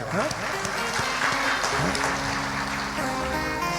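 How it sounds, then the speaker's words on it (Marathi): Audience at a Shiv Mahapuran katha clapping together in a sustained round of applause, blended with music and voices in the hall. "एकदा सगळ्यांनी टाळ्या वाजवा"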